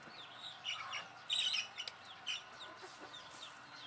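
Hen pecking her chicks to wean them away in a fly pen, low clucks mixed with sharp high chick peeps and a brief louder squawk, close and moderately quiet.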